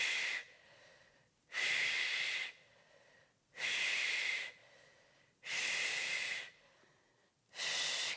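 Heavy, rhythmic breaths, one loud forceful exhale roughly every two seconds with quieter inhales between, close to the mic during a prenatal upper-body resistance band workout, with no speech.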